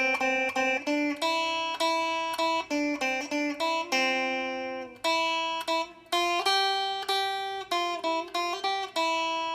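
Single guitar notes picked one at a time on the first string, tracing the Itsy Bitsy Spider melody in a steady, clear rhythm with brief pauses between phrases, played close and alone with no talking.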